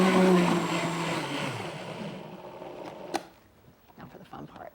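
A kitchen blender whirs steadily while oil is drizzled into a tahini, tamari and lemon dressing. The motor runs loud and close for about three seconds, then cuts off, leaving faint voices and quiet kitchen sounds.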